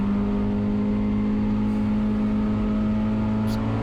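The engine of a 1990 Miata K-swap race car drones loud and close from inside the car on a wet track, a steady sustained hum with strong low harmonics and no pronounced revving.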